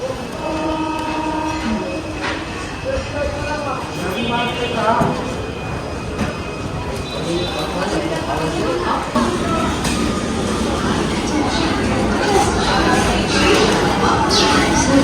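An empty train rumbles into a station with clattering wheels and a horn sounding, while people talk nearby over the steady mechanical roar.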